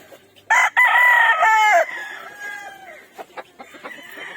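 A rooster crows loudly and close by, one long drawn-out call, followed by a few softer clucks and faint background noise.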